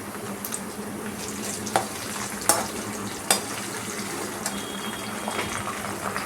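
Chopped tomato goes into a hot pan and fries with a continuous crackling sizzle, and a few sharp clinks and scrapes of stirring sound above it.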